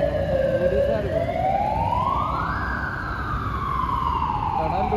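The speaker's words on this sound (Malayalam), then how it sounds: "ആംബുലൻസ് ആണ്." An emergency vehicle siren near a blocked tunnel, a loud, close, continuous wail that sweeps slowly up and then back down, with traffic rumble beneath.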